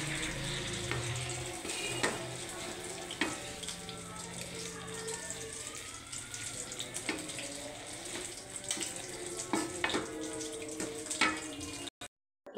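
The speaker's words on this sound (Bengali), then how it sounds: "শাকটা দিয়ে দিলাম, এখন নাড়াচাড়া করবো একটু।" Radish greens tossed into a pan over fried onion, garlic and green chilli, giving a soft, steady sizzle and hiss with intermittent scraping clinks of stirring, fairly quiet, with some speech.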